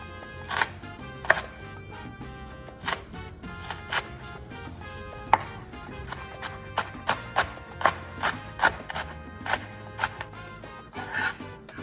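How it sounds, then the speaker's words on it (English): A knife chops ingredients for Mexican cowboy beans on a cutting board, with irregular sharp knocks spread across the clip and close, fairly loud strikes over a faint background. "I've got them all chopped up"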